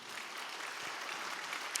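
Quiet, steady applause from a church concert audience, a soft continuous patter of clapping heard from a distance with no talking over it.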